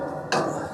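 Heavy solid grill grates lifted out of a Smokeslinger grill-smoker, heard as two sharp metallic clanks close by, one near the start and another a moment later.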